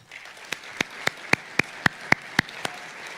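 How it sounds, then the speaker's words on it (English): At a faculty recognition luncheon, a few sharp, evenly spaced claps ring out clearly over a faint murmur of the room, roughly nine claps in steady rhythm. "I'd like to give a round of applause to Mr."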